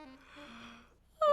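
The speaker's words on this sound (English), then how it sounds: "And he yawned a great big yawn." A cartoon bunny gives one big drawn-out yawn, a breathy rising-and-falling vocal sigh lasting about a second, close and fairly soft, followed by a sharp cut to another sound at the end.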